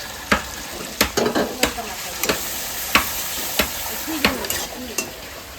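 Ginger, garlic and green chilli sautéing with salt and turmeric in a pan: a steady close sizzle with repeated sharp scrapes and taps of a spatula stirring at an irregular rhythm.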